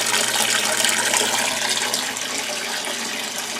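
Water flows and splashes into an aquaponics grow bed during its first fill, a loud, steady, close rushing pour with bubbling aeration and no voices.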